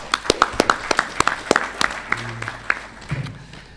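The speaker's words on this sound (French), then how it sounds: "je crois que ça mérite un applaudissement soutenu." Sparse applause at the opening ceremony of the 63rd session of the African Commission on Human and Peoples' Rights greets Gambia joining the Francophonie, distinct individual claps in an uneven rhythm that thin out after a few seconds.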